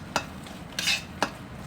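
A spoon scrapes through a pan of cider sauce with thyme for pork chops, three quick stirring strokes over a low sizzle, close and fairly clear, no voices.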